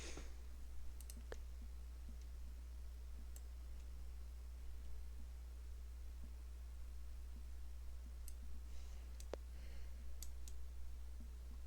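Sparse light clicks of computer keyboard typing, faint and irregular against a steady low hum, with no voices.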